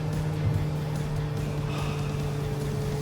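Abarth 500e electric car at full 113 kW power, regenerative braking off, with a steady droning cabin hum and whine under road noise, even and continuous throughout.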